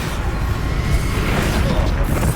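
A Bombarda explosion spell cast in the video game Hogwarts Legacy, a dense booming blast with crashing texture that fills the whole short stretch at steady, loud level.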